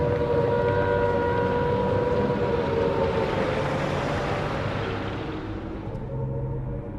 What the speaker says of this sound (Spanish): Momentos antes de anunciarse la guerra, las sirenas empezaron a sonar en Londres.